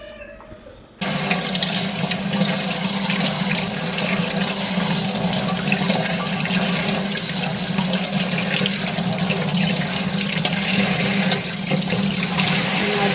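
Water drained from cooked rice pours steadily in a continuous splashing rush, close and fairly loud, starting abruptly after a quiet second and running unbroken to the end.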